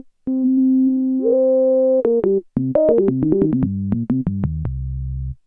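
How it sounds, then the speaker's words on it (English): GS Music Bree6 synthesizer with a sawtooth through a high-resonance, key-tracked filter, giving pure organ-like tones: a long sustained note, then a quick run of short stepped notes falling to a low held tone. "So you've got those organ tones in there."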